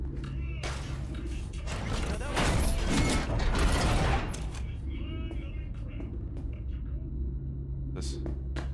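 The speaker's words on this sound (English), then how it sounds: "Oh, the elevator is working." An elevator runs in the video game Cyberpunk 2077, with a steady mechanical hum and rumble throughout. It swells louder in the middle, and faint clicks and clanks sit over the drone.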